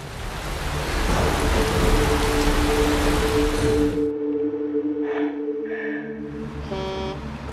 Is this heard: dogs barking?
no